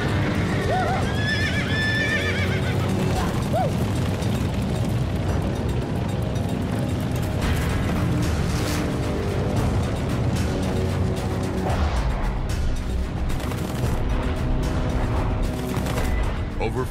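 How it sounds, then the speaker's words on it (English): Stampeding Texas Longhorn cattle on open plains, a dense continuous rumble of hooves with horse whinnies near the start and steady clip-clop throughout, loud and unbroken. "Teddy Blue hears what every cowboy dreads: stampede."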